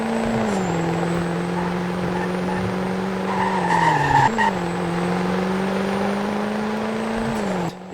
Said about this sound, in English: Finally actually hearing Duramax sounds in the game again